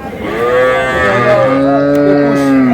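Cattle at a livestock market, including young bulls and heifers, give a loud, close, drawn-out moo that rises and bends in pitch, alone without talk.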